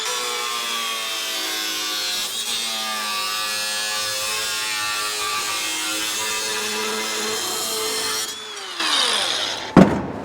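An angle grinder fitted with a cutting disc slices through old metal stock while fabricating a car trunk gap, a steady loud whine running throughout, then pitch sagging as the cut finishes and the disc spins down with a final clank.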